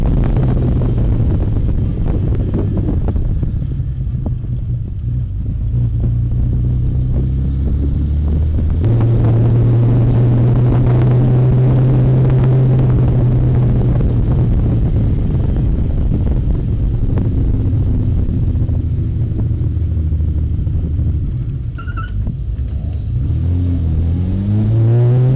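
Kawasaki Z1300 motorcycle engine on the move, a loud, continuous low rumble with rising and falling revs through gear changes, heavy wind buffeting on the microphone and no talk.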